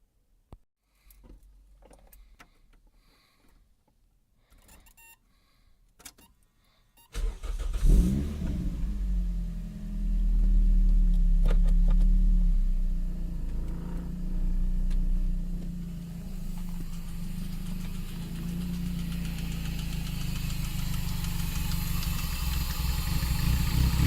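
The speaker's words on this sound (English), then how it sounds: "I'm going to leave you with some exhaust and see what it sounds like" A car engine starts after a few quiet clicks and handling sounds, then idles with a deep, steady exhaust rumble, briefly revving louder before settling.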